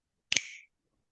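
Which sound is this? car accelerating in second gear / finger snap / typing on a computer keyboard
finger snap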